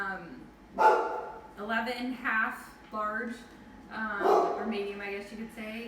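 A dog barks in short bursts at a delivery arriving at a home, heard faintly in the background beneath someone talking steadily about muffin sizes.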